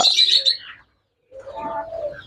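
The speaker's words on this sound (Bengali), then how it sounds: "ওরা হালকা আস্তে আস্তে ডাক দেয় যেটা খুব মধুর" Soft bird calls in two short bursts separated by a pause, with a gentle cooing tone in the second burst.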